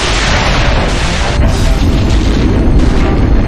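Heavy spaceship weapons in an EVE Online cinematic battle open fire with a dense, continuous barrage of booming blasts, loud and close, rumbling without a break.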